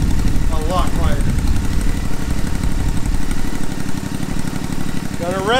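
A Royal Enfield Interceptor 650 idles steadily through slash pipe exhausts, a low, even throb that runs throughout, with a voice talking over it.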